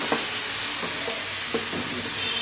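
Okra frying in hot oil over steady broadband sizzle, with a few brief scrapes and stirring knocks from a utensil and no talking.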